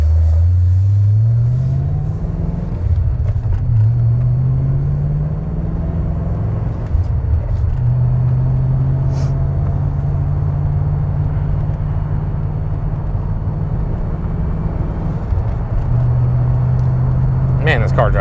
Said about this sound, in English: Man, this car drives so nice.